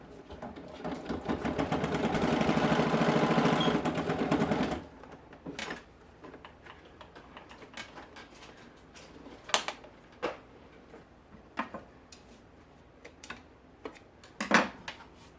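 A sewing machine runs steadily for about five seconds while stitching a crossbody bag seam, a loud close whir that stops abruptly. Scattered light clicks and taps follow.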